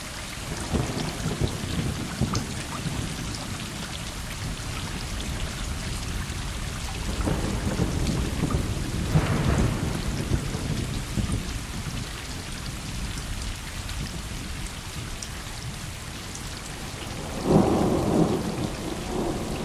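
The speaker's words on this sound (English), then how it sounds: "A group of cats take shelter from the raging storm" A raging thunderstorm in the video game Stray on a dark night, with dense, steady heavy rain throughout and several rolling thunder rumbles swelling up near the middle and again near the end.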